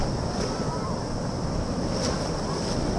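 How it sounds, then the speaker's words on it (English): Ocean surf washing onto the sand at Horseshoe Bay in Bermuda, a steady close roar of breaking waves mixed with wind buffeting the microphone, with no voices. "I'm walking right into a wave too."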